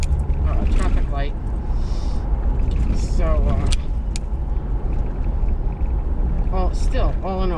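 A car driving along a city road toward a traffic light, its steady low road rumble and engine noise running continuously beneath someone talking throughout.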